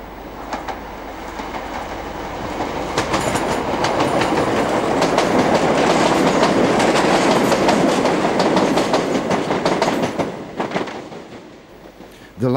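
A passenger train departs Cambridge station's single through platform, rumbling past with rhythmic clickety-clack of wheels over rail joints, building steadily then fading as it pulls away.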